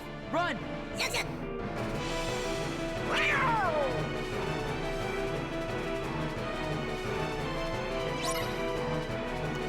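A cartoon cat meows a few times from the Kingdom Hearts Birth by Sleep video game, short, bright mews over busy game music and effects with no speech.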